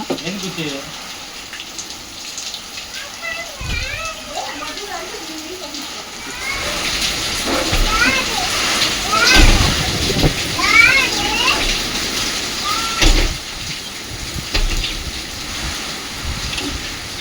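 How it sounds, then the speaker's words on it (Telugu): Steady rain patters and splashes throughout, growing heavier after a few seconds, with children's voices chattering and calling over it. "ఇప్పుడు ఇందాకే స్టార్ట్ అయింది వాన"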